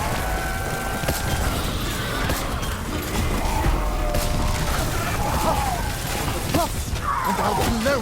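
Cannons boom in Black Ops 4 zombies on the Voyage of Despair map, heavy crashing blasts and mechanical clatter layered over continuous game noise and music, loud and dense throughout.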